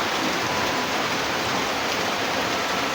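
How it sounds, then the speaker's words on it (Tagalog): Rain falls steadily and heavily, a loud, even, continuous hiss of drops striking surfaces nearby, with no voices. "Pasang ulan, no?"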